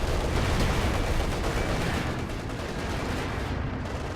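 Tank cannon fire and battle noise in the video game Company of Heroes 2, with Panther and KV-1 tanks in combat: a dense, continuous roar of booms and rumbling gunfire, loud and unbroken, with no voices.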